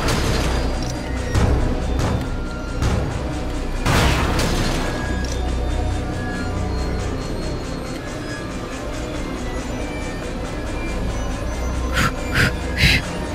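A muffled explosion booms in the horror video game The Evil Within, followed by low rumbling, mechanical clatter and a few sharp metallic hits under the game's ambient sound.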